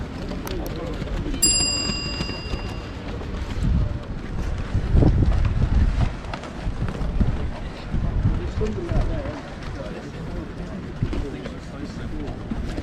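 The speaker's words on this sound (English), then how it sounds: "it's a breezy day" Gusty wind buffets the microphone outdoors at an old Ford rally at the British Motor Museum on a breezy day, low rumbling bursts rising and falling under nearby voices.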